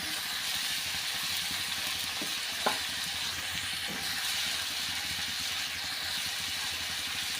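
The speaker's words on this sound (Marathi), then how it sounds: "छानपैकी परतून घेऊया" Onion sautéing with curry leaves and tomato in a pan for a spiced soybean dish, a steady close sizzle with a few soft scrapes of stirring and one brief clack near the middle.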